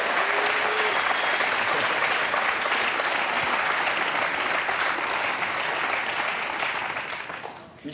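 An audience in a French TV talk-show studio claps loudly and steadily for about seven seconds before the applause tapers off.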